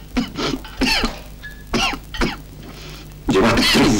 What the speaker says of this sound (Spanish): Llevas 3 años tosiendo.